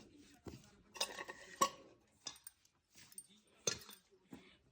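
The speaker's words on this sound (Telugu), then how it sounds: "ఇది మొత్తం ఇలాగ బాగా కలిపేసుకోవాలి" Urad dal flour being mixed with sugar for a traditional Andhra sweet, heard as quiet, irregular scraping and clinking of a utensil against a dish, with brief pauses between strokes.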